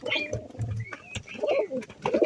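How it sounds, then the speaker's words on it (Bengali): Pigeons coo in low, throaty rolling calls nearby, with rustling and faint other bird sounds around them. "এই যে আমার কবুতরগুলো"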